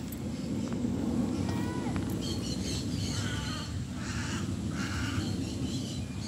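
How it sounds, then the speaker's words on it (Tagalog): Several birds call outdoors, a few harsh caw-like cries over steady low rumbling background noise, moderately distant. "ay, may mga ibon."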